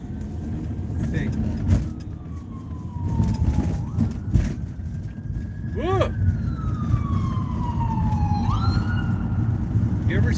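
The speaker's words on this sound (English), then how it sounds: "You ever seen a city with more sirens or heard more sirens?" Emergency vehicle sirens wail and sweep up and down along a busy city street, with several passes overlapping above steady traffic rumble; a man exclaims briefly.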